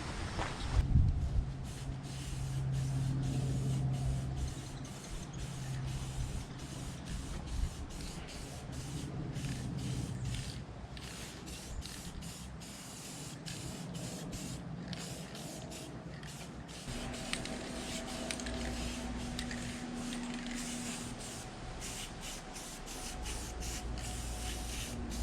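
Steady aerosol spray hissing onto a car radiator for a 1958 Pontiac, delivered in repeated short bursts with brief pauses, fairly close and alone.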